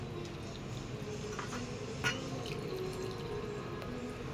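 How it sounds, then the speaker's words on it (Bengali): Lukewarm water poured into salted, pan-roasted wheat flour while making mutho pitha dough: a soft, faint trickle and splash with one brief sharper spill near the middle, set against steady background hiss and no talking. "এরপর কুসুম গরম পানি দিয়ে"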